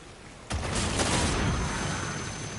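Legendary G-Rail gun fired during an online multiplayer shooter match, a loud sudden burst that sustains as a dense, booming volley of gunfire.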